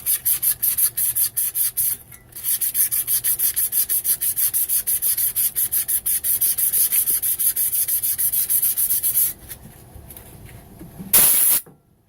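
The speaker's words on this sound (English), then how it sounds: "I've been just sanding on this with a little 220" Rapid, rhythmic back-and-forth scratching of used 220-grit sandpaper on a 1958 Coleman Model 200A, close up, pausing briefly twice, then a short burst of hiss at the end.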